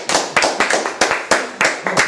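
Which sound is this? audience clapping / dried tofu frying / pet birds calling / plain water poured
audience clapping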